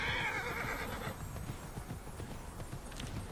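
A horse gallops in the video game Immortal Fenyx Rising, with quick rhythmic hoofbeats and a whinny at the start, moderately close under faint game ambience.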